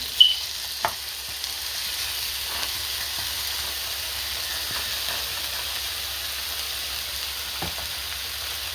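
Pico de gallo sizzling in a hot pot while cooking burrito filling, a steady soft hiss of frying with a few faint stirs and clinks, close by and continuous with no talk.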